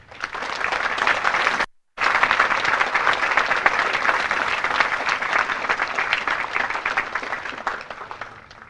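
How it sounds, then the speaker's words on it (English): Loud, sustained applause from a large crowd at a military graduation ceremony honoring awardees, many hands clapping densely, briefly cutting out before resuming and slowly tapering off. "please join me in giving our awardees a round of applause."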